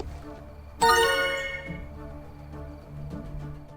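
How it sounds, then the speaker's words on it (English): A single chiming notification for an item feed update in the Fantastic Frontier video game, a bright sudden ringtone-like tone that rings out and fades, followed by a faint second chime. "the best thing that was ever added to the game, item feed updated notification sound"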